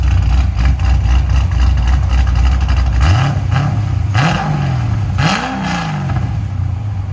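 A cammed Chevrolet Corvette Z06 with a 7.0L V8, headers and valved exhaust idles with a loping rumble, then is revved in two or three sharp throttle blips that climb and fall back, loud and close with no talking.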